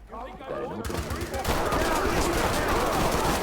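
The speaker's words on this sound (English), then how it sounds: "The noise of gunshots echoing in a different part of the house" Gunfire in the tactical shooter game Ready Or Not crackles in rapid bursts, building into a dense, loud barrage after a few muffled voices at the start, echoing from another part of a house.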